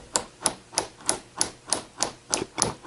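A 3-pound hammer taps a nail punch in nine even, sharp metallic strikes spaced about a third of a second apart, close and fairly quiet.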